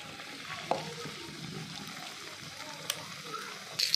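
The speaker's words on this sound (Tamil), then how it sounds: "இதில் வந்து டிப் பண்ணி குட்டி கடாய் வச்சுருக்கேன். அதில் நான் போடுறேன் பாருங்கள்." Jackfruit bajji fritters frying in oil in a small kadai, a faint, steady bubbling sizzle with a couple of light utensil clicks and a brief splash near the end.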